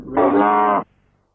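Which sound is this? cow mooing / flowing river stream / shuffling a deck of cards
cow mooing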